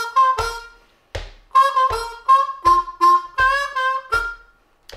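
A blues lick played on an Eb harmonica, from the intro of a song: short breathy draw notes and bends in quick bursts with brief gaps, played solo and up close.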